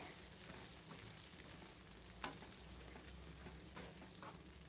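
Spices tempering in oil in a pan as the oil begins to separate, a faint, steady, soft sizzle and hiss running throughout with a few light clicks of stirring, no voices.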